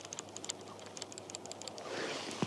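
Rapid, quiet ticking clicks in an uneven rhythm, like a fishing reel's mechanism being turned by hand, ending in a brief rustle and knock.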